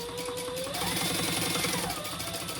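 A sewing machine runs steadily at close range, top stitching along both sides of a folded strap, with a fast even mechanical chatter and no pauses.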